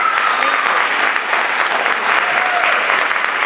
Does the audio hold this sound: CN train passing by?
no